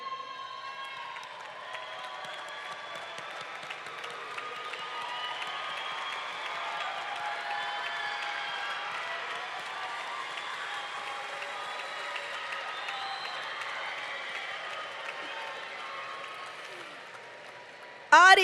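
A large audience applauds at a high school graduation ceremony, with sustained clapping and some cheering from a big crowd that continues steadily throughout, ending with a sudden loud burst at the very end.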